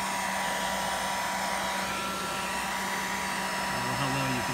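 Hair dryer blowing steadily at high heat on the low fan setting, a loud continuous whooshing roar with a faint hum, near and unbroken for the whole stretch.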